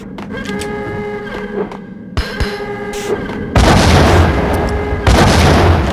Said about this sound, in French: On va balancer une grenade.